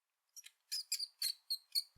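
A mouse squeaks in a quick series of thin, high chirps, about seven short bursts in uneven rhythm, faint and alone.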